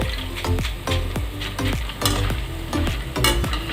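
Sweet boondi batter drops fry in hot oil while a utensil stirs and scrapes the pan in regular rhythmic strokes, a loud close sizzle running underneath throughout.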